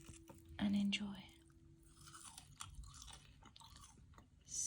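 Crunchy homemade french fries, salted after frying, bitten and chewed up close, giving a sharp crisp crunch followed by softer chewing sounds.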